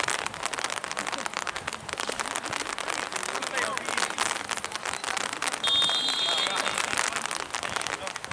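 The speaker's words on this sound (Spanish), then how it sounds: "Qué paja esta lluvia, boludo." Steady rain pours down on an outdoor football pitch during a lower-division league match, a dense continuous hiss with patter, while players shout and talk over it.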